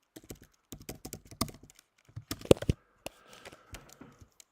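Typing on a computer keyboard, with close, crisp key taps coming in irregular bursts and short pauses and a louder cluster near the middle.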